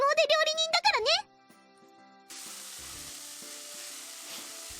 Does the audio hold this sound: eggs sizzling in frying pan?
yes